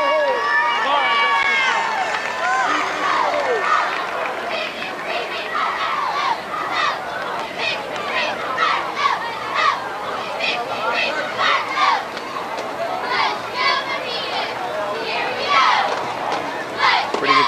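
A crowd on hand at a 2001 West Virginia AAA high school football game between Morgantown and Buckhannon, a loud, steady babble of many voices with scattered shouts and cheers throughout.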